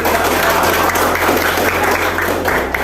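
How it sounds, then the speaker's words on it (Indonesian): A class of students claps together at a teacher's request during a lesson, a dense, continuous round of applause that fills the room at close range. "berikan tepuk tangan"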